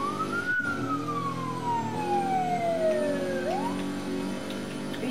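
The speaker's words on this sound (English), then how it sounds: "If you press F, then you could turn on the siren." A police car siren in the Roblox game Prison Life wails in a single long descending sweep, then rises again, steady and fairly close over a low engine hum.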